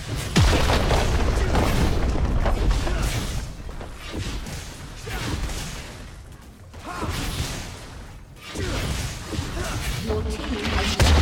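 A turret being destroyed in League of Legends, with booming crashes and whooshing impacts rolling through a noisy teamfight, loud and mixed under speech.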